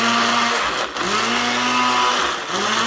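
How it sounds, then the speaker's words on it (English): A kitchen blender whirs loudly as it purées a sauce for a potato Indian breakfast, a close, steady motor drone that dips briefly and resumes with rising pitch. "And I'm gonna put in a blender."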